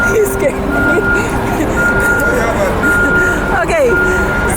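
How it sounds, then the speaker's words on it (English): A bus backing up near a beach gives off a steady run of evenly spaced, high reversing beeps. Traffic rumbles underneath, and voices can be heard faintly. "Sorry, there's a bus backing up."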